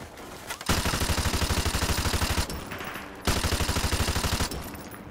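Sustained automatic gunfire from a Call of Duty: Modern Warfare firefight, two loud rapid bursts of evenly spaced shots each lasting about two seconds, separated by a brief lull.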